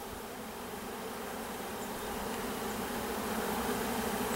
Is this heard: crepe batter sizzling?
no